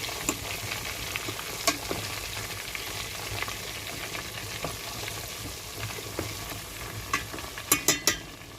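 Chicken pieces frying in hot oil, a continuous close sizzle with scattered pops and crackles, ending in a few sharp louder spatters, with no voices.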